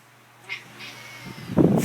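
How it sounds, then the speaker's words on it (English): A cat meows close by, a drawn-out, strained cry that grows louder and rougher toward the end. "Cat!"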